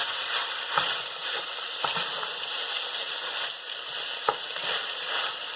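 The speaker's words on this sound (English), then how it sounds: "now once the onions are pretty much cooked, we're going to put in our tofu" Tofu is stirred into cooked onions in a hot frying pan, a steady sizzle and crackle of oil with a few sharp scraping knocks from the utensil, close and alone.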